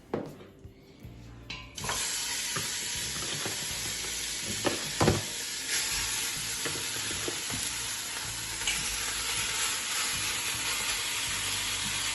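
Lamb cooking in a pan for a stew, with a steady loud sizzle that starts after a brief clatter and continues throughout, broken by a few knocks of stirring.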